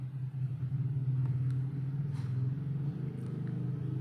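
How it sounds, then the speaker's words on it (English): Simulated engine idling near 1000 rpm, a low steady rumbling hum that holds even and continuous, moderately loud with no voices over it. "the system is simulating a dynamic idle speed hovering around 1000 rpm"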